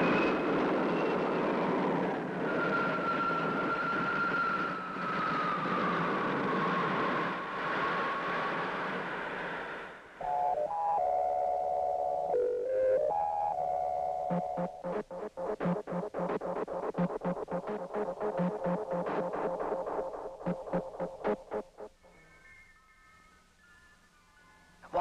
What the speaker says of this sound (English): Takeoff program starting now.